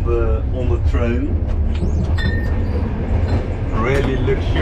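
Old Soviet passenger train running from Moldova to Romania, a steady rumble of wheels and carriage noise with faint squeals, heard from inside while people talk nearby.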